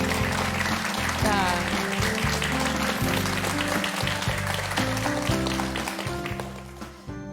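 A studio audience at a Korean KBS TV lecture show applauds steadily for several seconds, loud and close, before the clapping tapers off; a person speaks briefly at the end.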